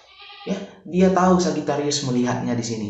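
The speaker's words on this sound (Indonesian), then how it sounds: "itu ada kambing lagi menyapa kita" A goat bleats in clear wavering calls over someone talking steadily, the animal's cries overlapping his speech rather than standing alone.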